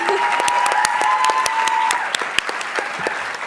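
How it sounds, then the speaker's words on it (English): An audience at an evening CHAPTERS literary reading gives the readers a full round of applause, loud and dense clapping with a thin steady tone underneath for the first two seconds. "Can we have another round of applause for all the readers who have read thus far tonight?"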